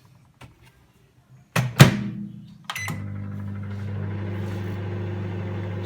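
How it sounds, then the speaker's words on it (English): A kitchen microwave oven starts up to melt butter: a couple of clicks and a door-like thump, then a steady low electrical hum settles in and runs on without a break. "get your butter and pop it in the microwave for a couple of seconds just to melt it"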